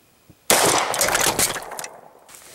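A Glock pistol, coated in chocolate and marshmallow from being baked into a s'more, fires one loud, sharp shot when its trigger is pulled by a string, followed by a decaying echo and no talking.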